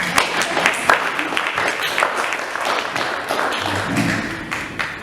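Wedding guests applauding in a room, a thick run of claps from a small crowd that swells early and then thins, with a voice briefly heard near the end.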